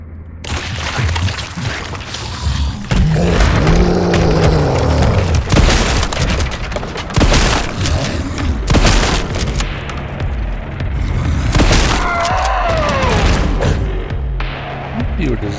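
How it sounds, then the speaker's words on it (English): An MSBG compact pump-action shotgun fires in the survival horror game Resident Evil Requiem, with heavy booming blasts and thuds among loud game action and voices. "MSBG Compact Pump Action Shotgun."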